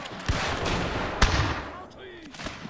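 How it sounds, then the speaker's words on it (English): Musket volleys from a battle in the Total War Pike and Shot game, with scattered cracks and one sharp report over a dense, rumbling battlefield din. "Right, the musketeers are opening up."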